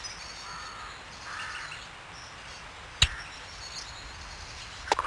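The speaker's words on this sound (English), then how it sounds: "Crow." A crow caws in The Animals of Farthing Wood PC game, faint calls over a steady hissing background with a couple of sharp clicks, no talking.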